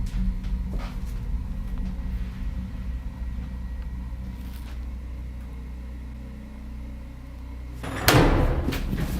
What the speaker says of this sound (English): Something slammed the door shut, hard